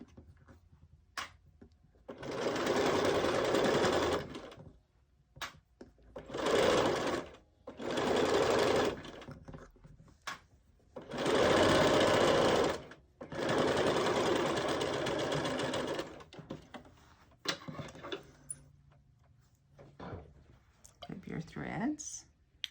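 A sewing machine stitches fabric for a pencil holder in bursts of rapid, rhythmic clatter, five or six runs of a few seconds each separated by pauses, close and loud, with quiet handling noises in between.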